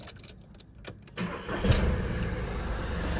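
A 2006 VW Polo 1.4 TDI three-cylinder diesel is started: a short starter crank is followed by the engine catching and settling into a close, steady running rumble, with no voices.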